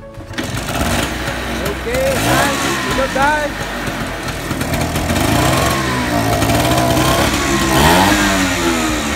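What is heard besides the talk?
old Vespa Super 150 scooter engine starting and revving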